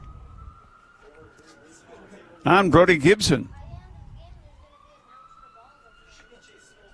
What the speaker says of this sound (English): Well, sirens again.